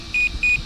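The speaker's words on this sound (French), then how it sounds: "Si je rappuie une fois dessus, il fera 4 bips." Bison V2 electronic speed controller being programmed gives two short, clear electronic beeps in quick succession, evenly spaced over a faint background hiss.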